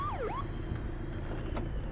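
A police siren in the video game Crimson Snow gives a single quick rising-and-falling wail, then fades into a steady low engine-like hum with faint background tones.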